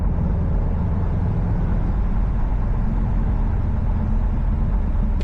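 A 2018 Subaru WRX STI all-wheel-drive sedan drives on winter roads in Winnipeg with a steady low rumble of engine and road noise from inside the cabin, continuous and even throughout, with no talking.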